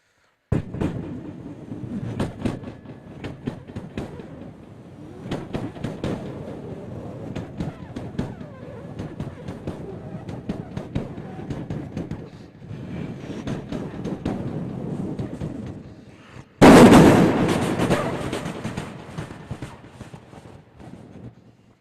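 A voice imitates two trains rushing past on different platforms, a long rumbling chug followed by a sudden louder roaring burst near the end.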